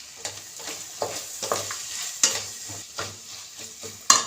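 Poha (flattened rice) is stirred into hot tempering in a pan, with repeated scraping strokes and soft clinks at a steady rhythm over a light sizzle.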